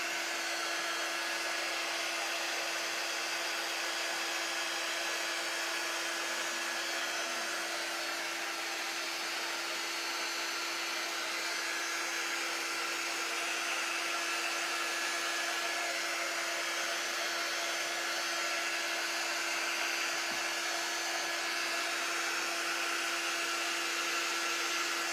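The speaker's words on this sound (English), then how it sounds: "heat gun." Heat gun blowing hot air while working on a painted spring bunny tray, a steady, even whirring hiss with a constant hum, continuing unchanged for the whole stretch with no talking.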